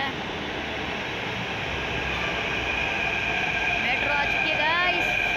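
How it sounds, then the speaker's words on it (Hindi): A metro train rumbles into an underground station with a steady, loud roar of wheels and rails, rising faint squeals and whines near the end, and people talking over it. "मेट्रो आ चुकी है गाइस"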